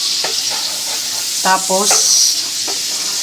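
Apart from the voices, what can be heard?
garlic and onion sautéing in a pan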